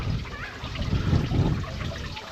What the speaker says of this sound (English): A very pretty water feature.